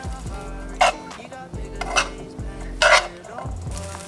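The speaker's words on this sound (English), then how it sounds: "mix in my noodles" Noodles with stir-fried veggies and tofu, in a coconut aminos and garlic powder sauce, are stirred in a pan: three bright scraping clinks of a utensil against the pan over a soft background hum.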